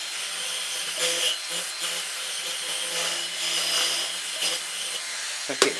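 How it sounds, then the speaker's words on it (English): A Dremel-type rotary tool spinning a small brass wire brush to clean metal, giving a steady high whirring and scratching buzz with slight changes in pitch as the brush presses the work, running alone throughout. "I'll put a little brass wire brush in the old Dremel type tool, and I'll give this a clean up"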